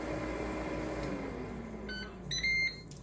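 A short electronic chime of a few steady tones plays near the end as a Ninja Speedi air fryer finishes cooking, over a steady appliance hum.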